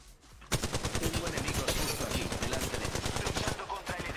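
Sustained automatic gunfire in Apex Legends Mobile, a dense stream of rapid, loud shots that runs almost the whole time after a sudden start, with faint voices underneath.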